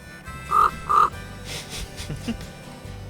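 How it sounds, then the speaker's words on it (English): Two loud, hoarse caws from a raven in quick succession near Potato Harbor on Santa Cruz Island, followed by quieter outdoor ambience and a faint distant call. "It's kind of a cute little raven."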